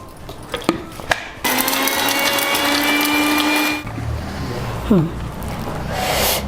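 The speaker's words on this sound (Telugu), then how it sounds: "ఈ కొత్తిమీర, ఈ పుదీనా, కాస్త ఈ కీమా కూడా వేసేసి మిక్సీ కాడించుకుందాం ఇంకోసారి" A kitchen mixer grinder runs at full speed on coriander, mint and chicken keema. It starts abruptly with a loud, steady whine, cuts off, and then clattering and handling noises follow. Sharp taps come before the start.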